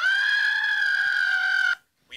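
A single drawn-out, tonal bird-like call from a video game, meant as a turkey gobble, sounds loud and close for nearly two seconds before cutting off into silence.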